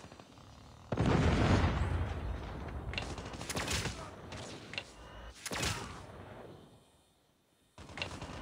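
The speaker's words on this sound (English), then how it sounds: "Friendly predator missile inbound." Predator missile explosions in the video game Call of Duty, a loud booming blast followed by scattered rumbling bursts and secondary bangs, fading into quiet before another impact at the end.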